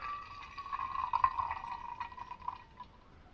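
Freshly brewed French press coffee streams into a cup at a campsite, a short steady trickling pour with a rising liquid tone, close and fairly quiet, with no talking.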